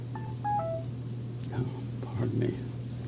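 A mobile phone gives several short electronic tones while it is being switched off during a board meeting, with a low steady hum and faint murmuring voices in the room underneath.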